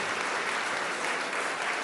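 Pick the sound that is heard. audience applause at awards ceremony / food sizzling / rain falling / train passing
audience applause at awards ceremony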